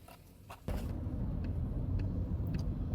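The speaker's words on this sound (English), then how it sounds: "for some reason, traffic this morning is a lot heavier than normal" Heavy morning road traffic in Okinawa, a steady close rumble of cars and engines that swells suddenly and holds, heard from inside a vehicle with faint clicks over it.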